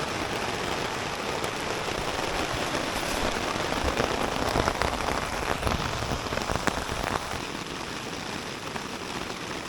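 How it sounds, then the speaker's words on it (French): Heavy rain pours steadily outside in the Pyrenees on the GR10 trail, onto a surface nearby, a dense continuous patter with scattered louder drops and no talking. "Comme il pleut dehors."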